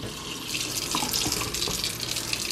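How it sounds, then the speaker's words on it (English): Cold tap water runs steadily into a kitchen sink, a continuous close splashing rush that holds at an even level throughout with no talk. "now I'm just gonna go ahead and fill my sink with some cold water"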